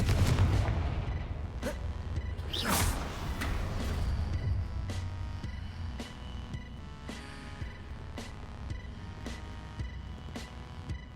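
Confringo blasting spell explosions in the Hogwarts Legacy video game, a strong burst early on followed by a series of sharp, spaced impacts over a low hum.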